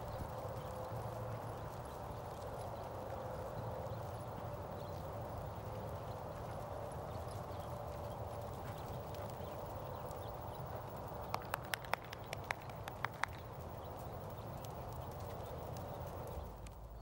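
A Standardbred horse being ridden over wagon wheel poles, hooves clip-clopping in a steady walking rhythm under a constant wash of wind or outdoor noise, with a few sharper knocks near the end.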